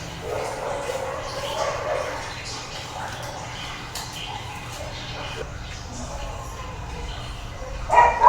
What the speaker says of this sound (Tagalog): Ang daming aso mga be.